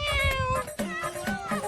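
A cat meows in short, close, repeated calls, each rising then falling, over quiet surroundings.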